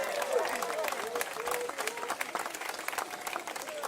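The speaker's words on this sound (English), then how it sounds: "Give Sister Harriet Tubman a round of applause." Applause from an outdoor crowd at a public statue announcement honoring Harriet Tubman, a steady wash of clapping and cheering for about four seconds, fairly distant and moderately loud, with voices mixed into the noise.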